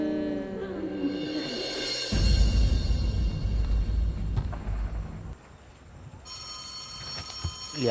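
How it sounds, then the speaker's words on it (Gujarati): An old-style telephone bell rings in a steady electronic trill, with rumbling low background noise swelling in the middle and a bright ring returning near the end. "અત્યારે કોનો ફોન આવ્યો"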